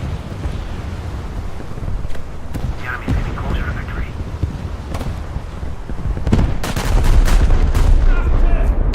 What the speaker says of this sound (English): Another salvo coming from the Arkansas.